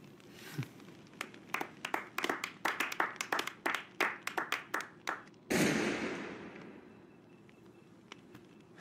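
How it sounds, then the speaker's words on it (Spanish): In a horror film scene, a single pair of hands claps slowly and sharply, about twenty close claps in an uneven rhythm, followed by a sudden loud burst of noise that fades away. "¿Por qué no aplaude?"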